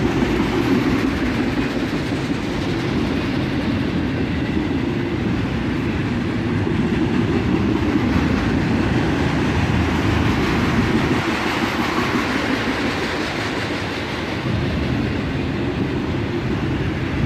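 Freight train of autorack cars, some loaded and some empty, rolling past at dusk, making a steady, loud, continuous rumble and rattle with faint rhythmic clickety-clack throughout.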